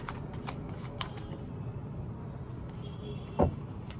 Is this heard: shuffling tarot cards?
yes